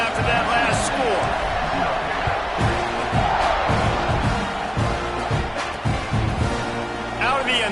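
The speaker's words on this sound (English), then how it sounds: "this crowd is buzzing after that last score" A video game stadium crowd in EA College Football 26 rumbles with a steady loud roar and buzz, with cheers and thumps rising through it, and a commentator's voice runs over the noise.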